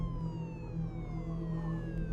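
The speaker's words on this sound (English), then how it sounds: "It was a police siren." A faint police siren wails in the distance, its long falling tones sweeping steadily over a low background rumble.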